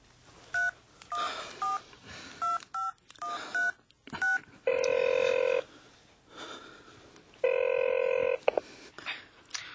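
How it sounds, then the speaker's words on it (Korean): Telephone keypad tones beep in a quick series of short presses, followed by two longer ringback tones, on a phone being dialed to reach a hospital funeral hall, moderately loud against a quiet background. "나는 부들부들 떨리는 손으로 다시 전화기 숫자를 눌렀다."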